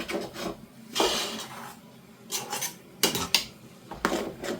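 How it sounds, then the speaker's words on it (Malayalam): Jackfruit dish with curry leaves in a pot gets stirred with a spoon, giving bursts of loud scraping and clattering against the metal, separated by short pauses; no voices. "കരിയാപ്പില ഇട്ടു. ഒന്ന് ഇളക്കി വെക്കാം."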